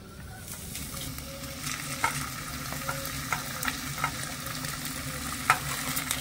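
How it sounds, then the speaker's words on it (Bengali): Grated raw potatoes sizzle steadily in a hot pan while being stirred, with soft crackling frying and occasional sharper scrapes of the spoon against the pan. "তো এখানে আমি সবকিছু ভালো করে মিশিয়ে একটু ভাজা ভাজা করে নেব।"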